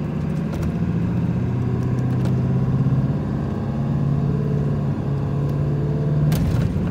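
Ford 7.3 Powerstroke diesel truck, an older OBS model, accelerating under throttle with a steady, loud engine drone from inside the cab while some light rattles sound over it.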